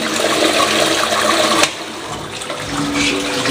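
A toilet in a bathroom flushes with a steady, loud rush of water that surges and then settles into a softer swirling refill, close and without talk.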